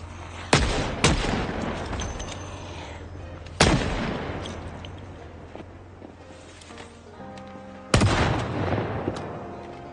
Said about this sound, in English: I'm actually just using guns to stay ahead of the stress at this point.